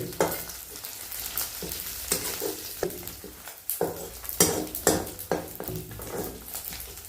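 Bombil (Bombay duck) frying in hot oil over a wood-fired chulha, a continuous sizzle broken by repeated scraping stirs and light pan clatter, close and fairly loud with no talking.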